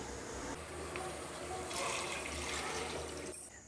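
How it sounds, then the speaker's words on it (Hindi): Water poured steadily into a large cooking pot holding beef trotters and fried masala, a continuous close rushing splash that swells slightly partway through before cutting off. "मिक्स करते ही हम इसमें पानी ऐड कर देंगे।"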